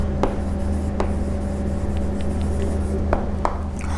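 A pen or marker scratches out short, quick strokes on a board or paper during an accounting lesson, faint and close against a steady electrical hum.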